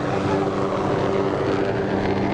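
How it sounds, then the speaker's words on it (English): A Channel 4 news helicopter flies away from a high school football game, a continuous, fairly loud droning rotor and engine hum that holds steady throughout. "As Channel 4 Chopper makes his way out of here."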